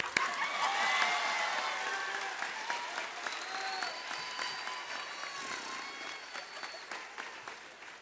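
A crowd of graduates and guests applauds at a high school commencement ceremony, steady clapping that starts strong and slowly fades over several seconds, with a few cheers and whistles heard over it.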